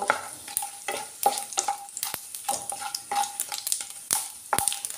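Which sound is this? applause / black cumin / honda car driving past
black cumin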